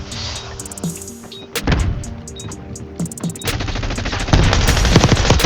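Full-auto Glock fire in the Black Ops 6 video game, with rapid bursts of shots and sharp cracks layered over dense game noise, growing louder and busier toward the end.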